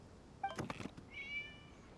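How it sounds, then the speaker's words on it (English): A cat in the Genshin Impact video game gives a short meow followed by a longer, rising meow, both faint and alone over quiet background. "It was just a cat."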